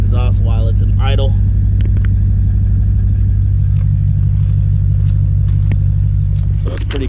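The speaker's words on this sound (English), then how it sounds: "Let you guys hear the exhaust while it's in idle." A 2008 Lexus IS F engine idles with a steady low exhaust rumble throughout, while a person talks briefly at the start.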